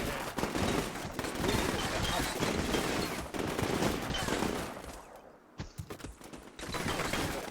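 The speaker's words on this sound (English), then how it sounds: "They've returned fire." Gunfire in a war video game: loud, dense fusillade of rapid automatic shots rolling almost continuously, briefly dropping out before resuming, with some voice mixed underneath.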